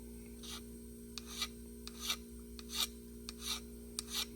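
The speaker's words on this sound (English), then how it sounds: "you can use any kind of like needle file, like a finer type of file" A fine needle file sweeps across metal on an engine thrust bearing surface, about nine short, separate rasping strokes, faint and close over a steady background hum.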